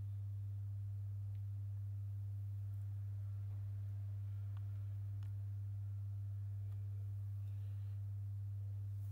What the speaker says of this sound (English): So I'm using sine waves for everything.